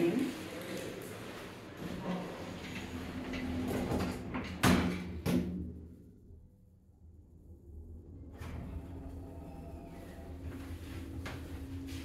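A Portsmouth lift's doors slide and bump shut with a couple of sharp knocks over a low hum, followed by a hush and then a steady background drone. A voice is heard briefly.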